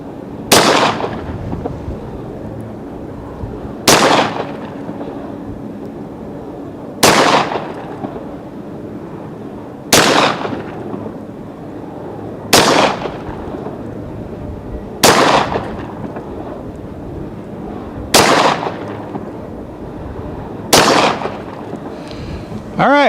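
A Kimber Custom II 10mm pistol fires 180-grain rounds outdoors: eight loud, sharp shots, each evenly spaced about three seconds apart, with a brief ringing decay after every report.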